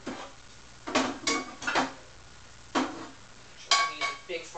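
A big frying pan is handled in a home kitchen, making several sharp metallic clanks and knocks at uneven intervals, loud and close.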